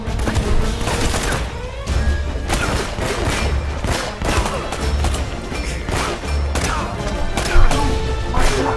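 Heavy, rapid gunfire from the video game Uncharted: Drake's Fortune, a steady barrage of close, loud shots and impacts with booming thuds mixed in.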